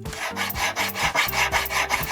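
A hand file rasps against the inside of a metal wedding band in quick, even back-and-forth strokes, about two per second, close and fairly quiet with no talking.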